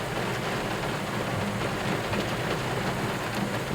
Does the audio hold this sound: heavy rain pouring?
yes